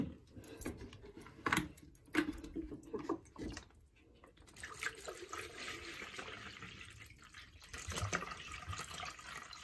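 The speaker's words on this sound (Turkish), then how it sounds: "Sapsarı bir su akıyor gördüğünüz gibi." Yellowish brine pours and splashes from a container of home-cured green olives, a steady running-water rush with gurgling bursts, close by and alone.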